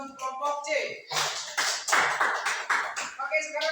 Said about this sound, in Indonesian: kita berikan tepuk tangan dulu untuk kelompok C